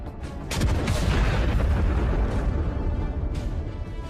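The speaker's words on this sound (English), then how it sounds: "The fire gets to the ammo." Ammunition inside a burning T-72 tank cooks off after hitting mines, a long, loud rumbling blast with dense crackling bursts sustained throughout, heard from a distance.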